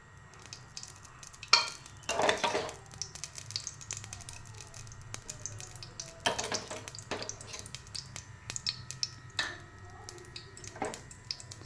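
Ghee and a little oil heating in a pan for vegetable pulao, a low steady sizzle broken by several louder bursts of stirring, pouring and spoon clinks.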